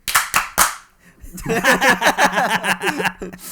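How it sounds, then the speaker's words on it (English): Three sharp claps land in quick succession, loud and close, before several people break into laughter and chatter. "we need to do 3 consecutive claps all at the same time"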